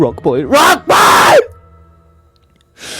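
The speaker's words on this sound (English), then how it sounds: "One of them got into pain, and that's why he was screaming." A man yells and groans in pain during jiu-jitsu practice: two loud, strained bursts of screaming in quick succession, followed by a brief quiet, then more noise.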